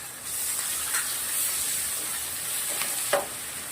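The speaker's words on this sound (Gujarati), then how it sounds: "ડુંગળી જોડે આદુ, મરચાં, લસણ પણ શેકી લેવાના છે." Onion, ginger, chili and garlic paste fry in a pan of oil with a continuous close sizzle and hiss, broken by a few faint stirring scrapes.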